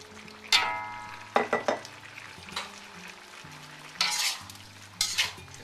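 A utensil stirs tomatoes into boneless chicken in a pot, making several distinct scraping and clattering bursts over a soft sizzle, close up with no talking.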